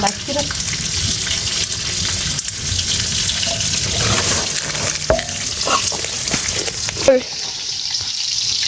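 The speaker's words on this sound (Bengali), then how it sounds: "আম্মু বড়া ভাজতেছে" Bakul flower fritters fry in hot oil with a steady close sizzle, broken by occasional stirring scrapes and clinks.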